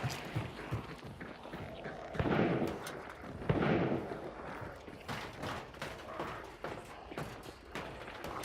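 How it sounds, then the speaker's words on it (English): Gunshots in the video game Hunt: Showdown, a run of sharp cracking reports at varying distance, some close and punchy, scattered irregularly with faint movement sounds between them. "Sound like those shots were at that bridge"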